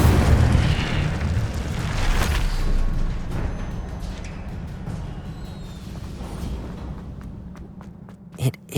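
The Incendio fire spell goes off in the video game Hogwarts Legacy with a loud, rumbling burst that fades into a lingering roar. Scattered clicks and small pops follow, and a sharp pop comes near the end.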